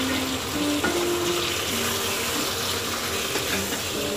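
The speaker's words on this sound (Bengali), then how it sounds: "আমি এটা দিয়ে একটু কষাবো মশলা, তারপরে পুরোটা টমেটো দিয়ে দিব" Spices and tomatoes fry in a pan with a continuous, close, hissing sizzle that stays even and loud throughout, broken only by faint stirring sounds.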